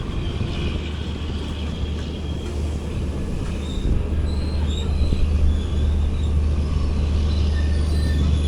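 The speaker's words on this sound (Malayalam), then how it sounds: "വളരെ പെട്ടെന്ന് തന്നെ നമ്മുടെ അടുത്ത സ്റ്റോപ്പായി ചന്നരായപട്ടണയിലേക്ക് എത്തുകയാണ്" Passenger train pulling into Channarayapatna station on the Yesvantpur–Mangaluru line, a steady loud rumble of rolling wheels and carriages with occasional faint squeals, heard from on board with no talking.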